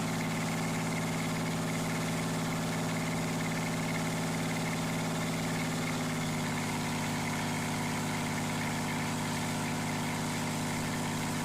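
A twin-turbocharged diesel engine with a roots blower and balanced internals runs at a steady idle. It gives a constant loud drone, and the tone shifts partway through. There is no talking.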